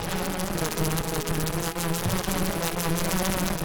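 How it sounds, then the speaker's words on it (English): Dense, steady buzzing of many bees close to the microphone, a continuous droning swarm hum with no pauses throughout. "Am I close enough to these bees to make people wearing headphones uncomfortable?"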